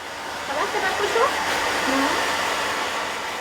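Hair dryers in a hair salon blow with a steady loud hiss that fills the room, with faint murmuring voices underneath.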